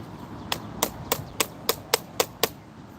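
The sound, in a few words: hammering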